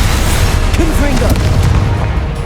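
A heavy booming blast from the Confringo fire spell in Hogwarts Legacy, a loud rumbling explosion that swells and decays over a couple of seconds, with a voice heard briefly over it.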